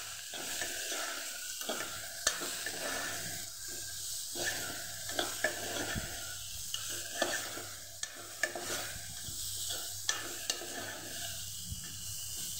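Sprouted mung beans with turmeric, red chilli powder, coriander-cumin powder and salt are stirred in a pan, with repeated spoon scrapes and light clicks over a soft, continuous sizzle.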